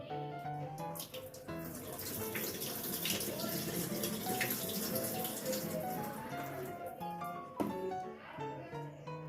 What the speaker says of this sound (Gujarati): ત્રણ ચાર પાણી ધોઈ નાખવાનું.